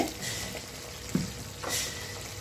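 Thick jamun fruit jam syrup being stirred in a pan, with a soft steady sizzle, faint bubbling and a couple of light scraping strokes, quiet and close with no talk.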